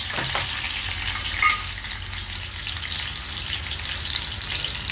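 Ginger-garlic paste and coconut spice paste with cumin, mustard seeds and curry leaves frying in oil, a loud, steady close sizzle with a brief stir clatter, no talking.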